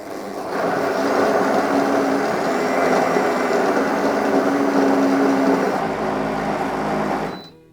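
A Froothie Optimum 9200A Vortex blender runs on a lower setting making celery juice, a loud steady whirring motor drone that holds evenly for several seconds and then winds down and stops.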